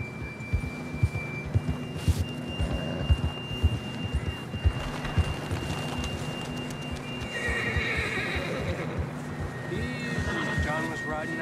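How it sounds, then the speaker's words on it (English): Hooves clip-clop in a steady galloping rhythm as a horse neighs loudly in the video game Red Dead Redemption 2, with voices speaking over the game sounds. "John was riding that horse when we left Blackwater"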